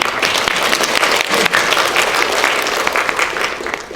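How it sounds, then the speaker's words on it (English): Sustained applause from a large crowd, dense and steady clapping filling the space for several seconds with no talking. "another round of applause for Marisa Fong."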